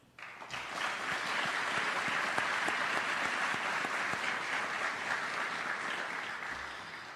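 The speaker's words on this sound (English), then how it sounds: "Let us applaud these remarkable individuals for their outstanding service and commitment to our" An audience at a US Army award ceremony honoring non-commissioned officers breaks into applause, a sustained, even wash of many hands clapping that starts abruptly and holds steady for several seconds at moderate distance.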